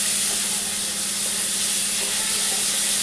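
Garlic sizzling in hot oil in a pan, a loud, steady bright hiss filling the whole moment with no talking over it.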